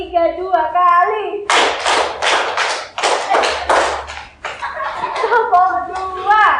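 Several people clap their hands in a counting rhythm game, with quick bursts of claps in short rhythmic groups between stretches of spoken instructions.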